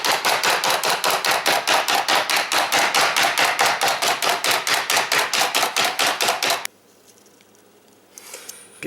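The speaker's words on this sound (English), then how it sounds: "I like my habaneros minced pretty well." A knife mincing habanero peppers on a cutting board for pineapple pico de gallo: fast, steady, loud chopping strokes in a continuous rhythm for several seconds, then stopping abruptly into quiet room tone.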